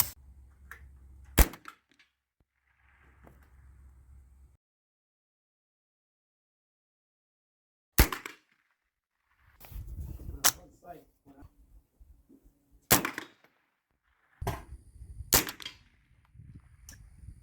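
Single shots from a budget .22LR AR-style rifle at an outdoor range, sharp isolated cracks spaced a few seconds apart, some close together, with a faint voice between them.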